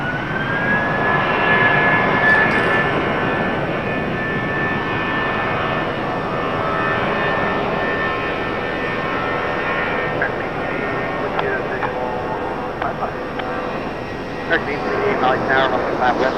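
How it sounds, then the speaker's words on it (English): JetBlue jet airliner departing Raleigh-Durham airport, a loud sustained roar of jet engines with a high whine that fades while the rumble continues, with scattered clicks and other noises near the end. "Fantastic sounding departure for that JetBlue"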